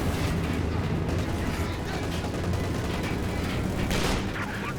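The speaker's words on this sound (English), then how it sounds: "I think they're going to strafe this Kugelwagen." P-47 strafing fire tears into a Kubelwagen in Company of Heroes 2, a dense, loud barrage of rapid gunfire and booms running continuously throughout.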